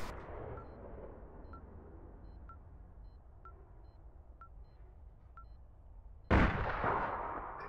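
Enemy players jump and shoot in APB Reloaded, with faint distant gunfire and periodic beeps, then a sudden loud blast of shots close by near the end.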